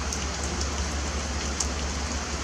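Rain falling steadily outdoors, a dense, continuous hiss of drops with a few slightly sharper taps, fairly close and loud, with no voices.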